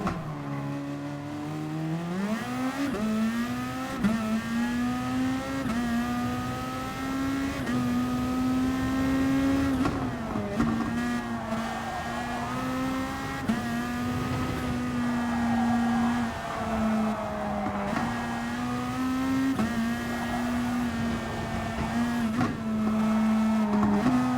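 Race car in the Gran Turismo Sport video game, driven into a big hairpin on a circuit: a steady, loud engine drone whose pitch drops under braking and climbs through repeated gear shifts.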